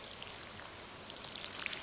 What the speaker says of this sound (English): Does the rain mean we don't have to water it?